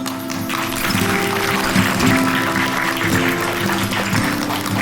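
Audience applause in a hall at a breast reconstruction talk, a steady dense wash of clapping held for several seconds over a low background hum.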